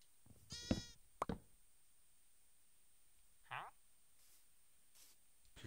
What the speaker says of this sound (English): Gotta make sure I have the sheep.